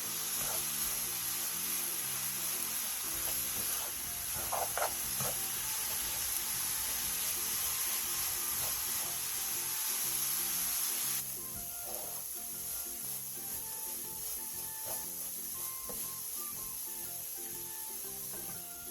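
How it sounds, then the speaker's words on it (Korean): Anchovies stir-fried in bubbling Korean seasoning sauce for a side dish, a steady loud sizzle with scraping and rubbing of a spatula against the pan that eases to a quieter bubbling partway through. "양념이 전체적으로 바글바글 끓으면 멸치를 넣고 양념이 골고루 묻을 수 있게 볶아주세요."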